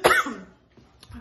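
A single sharp cough bursts out close by, followed by a softer throat-clearing rumble and a quiet pause.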